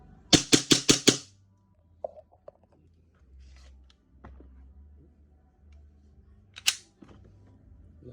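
A WE G17 Gen 3 gas blowback BB pistol fires five sharp, snappy shots in quick succession, followed by quiet handling noise and one more crisp shot near the end.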